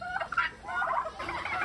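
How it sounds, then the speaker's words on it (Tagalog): Chickens cluck at a small start-up farm, with a few close, short clucking calls in quick succession over a faint background. "Daghana po kag manok ani oy"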